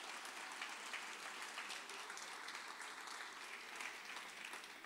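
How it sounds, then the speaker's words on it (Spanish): Sustained applause from an audience at a political speech, steady dense clapping filling the whole stretch at an even level with no voices over it. "Un fuerte aplauso para todos ustedes."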